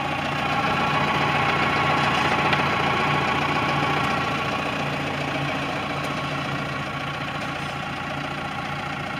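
Steady engine drone of a 2014 Kubota M8560D tractor with its PTO running, an even idling hum with a slight mechanical knock that holds for several seconds, slightly louder at first, with no voices.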